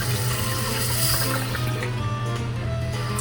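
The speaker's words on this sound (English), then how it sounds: "Filling the bowl with water." Water rushes and gurgles steadily into a new boat toilet bowl, a continuous close filling sound with a low hum underneath.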